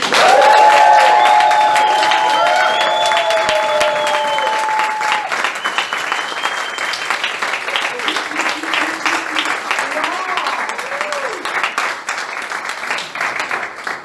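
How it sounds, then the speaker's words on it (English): Audience applause and cheering welcoming a host at a club meeting, a loud sustained wash of clapping with a few whoops early on, thinning slightly over time. "Please help me welcome with your loudest, crazy, most joyful applause for Nikki"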